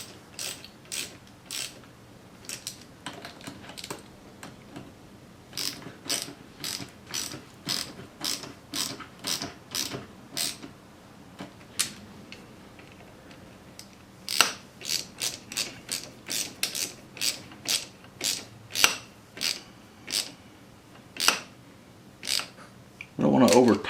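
A ratchet snugs hose clamps onto Boyesen SuperCooler cooling hoses on a motorcycle engine, giving many short, sharp clicking bursts in steady runs close by, with brief pauses between strokes and a louder clatter at the very end.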